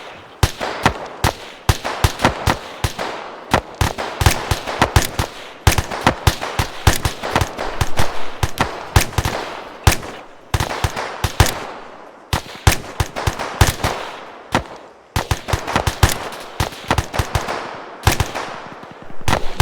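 Sustained infantry gunfire in Arma 3 during platoon training, with dense rapid bursts of automatic rifle and machine-gun fire mixed with single shots, loud and near, continuing almost without pause.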